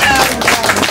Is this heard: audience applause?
yes